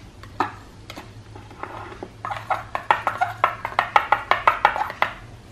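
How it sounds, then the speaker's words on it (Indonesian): A spoon stirs a freshly brewed homemade pesticide mixture for bonsai coconut pests, giving a quick run of close, rhythmic clinks and scrapes against the container after a few scattered knocks. "Jadi ini diseduh. Aduk sebentar."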